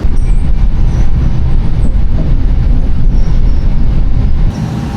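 A double-decker train rumbles loudly along the tracks approaching Milan Central station, a dense low roar with faint squeals above, easing slightly toward the end.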